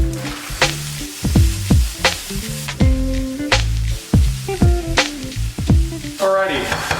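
Vegetables frying in a hot pan give a steady sizzle, with sharp, rhythmic tonal hits layered over the sizzling throughout.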